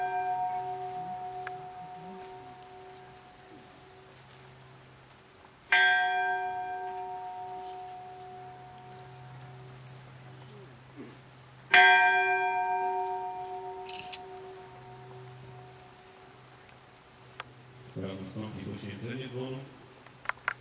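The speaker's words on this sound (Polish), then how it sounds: "Ceremonia przekazania repliki dzwonu z Wielkiej Figury koronowana zostanie symbolicznym uderzeniem w dzwon." Replica church bell struck symbolically at a military memorial ceremony, three loud strikes several seconds apart, each ringing out with a long sustained hum and decay, with a hum of crowd noise beneath.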